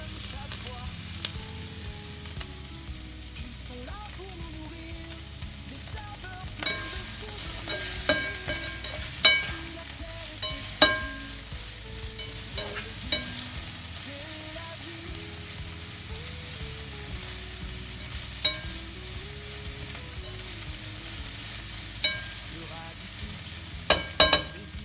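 Eggs for Turkish-style eggs (çılbır) frying in a pan, a steady soft sizzle running the whole time with occasional sharp pops and spatter crackles, accompanied by faint background music.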